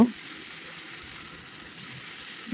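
Potatoes fried earlier are stirred with banana flower in a pan, giving a steady low sizzle of frying throughout, with no distinct scrape or stroke standing out.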